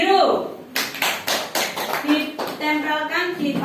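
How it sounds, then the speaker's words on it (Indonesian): A group of students claps for the blue group in a classroom, several loud uneven bursts of close hand clapping over a few seconds, with voices talking under and between the claps. "tepuk tangan untuk kelompok biru"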